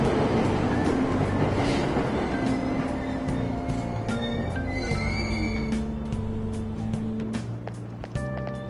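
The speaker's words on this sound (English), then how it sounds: "Train doors are now closing. Please stand back." Subway train in Persona 5 Royal departing a Tokyo station platform, a loud steady rumble with rising mechanical tones and squeals as it pulls away, heard alone.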